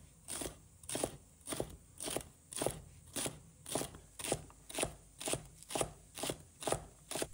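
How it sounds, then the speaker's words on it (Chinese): A knife chops green onions and celery into small pieces on a cutting board, with about fourteen crisp, evenly spaced thuds in a steady rhythm, close and fairly quiet, with no talking. "再准备一把小葱、芹菜，把它切成小粒。"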